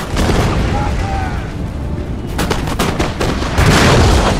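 Musket volleys from Old Guard infantry in a Napoleonic-era strategy game battle, with loud overlapping gunshots and booming reports over a dense rumble of combat, fairly heavy and continuous.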